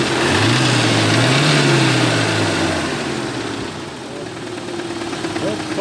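A car engine with a knocking fault runs loud and close. Its pitch rises briefly as if revved, then it settles into a steady idle with a faint repetitive tapping hard to pick out.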